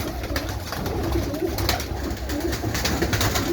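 Pigeons, recently dewormed and settled on shelves in a loft, coo softly in a low murmuring drone under steady background noise, fairly close, with no talking.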